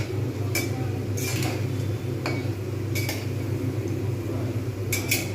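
Gulab jamun balls slowly frying in oil, a steady low bubbling hiss running throughout, with several sharp clinks of a metal spoon against the pan as the pieces are turned.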